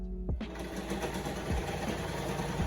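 A sewing machine stitches old thrifted clothes, running in a steady, fast mechanical whir that sits close and fairly loud, with a brief thump near the start and no talking over it.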